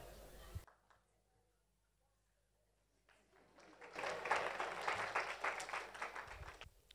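Applause from an audience at a Young People's Endeavour gathering greets a speaker coming to the stage. It swells in after a quiet stretch and holds as a dense, steady clatter of clapping, with a little talk before it.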